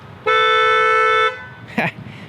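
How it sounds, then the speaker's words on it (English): A 2024 Hyundai Kona N Line's horn, set off by the key fob panic button, blares once in a single loud, sustained blast lasting about a second, followed by a brief voice. "Pretty loud horn, but it's not too beepy."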